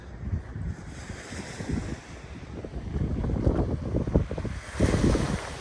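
Sea waves at Konyaalti Beach in Turkey on an early morning wash in with a rushing, rumbling surge that swells and recedes, mixed with gusty wind buffeting the microphone, and no voices.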